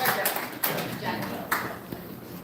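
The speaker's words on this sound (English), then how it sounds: "Loudest applause that you have for District Leader Mike Boomer." Crowd applause for a district leader at a Bed-Stuy judicial candidates forum in Kings County: steady clapping with a few sharper bursts, mixed with voices throughout.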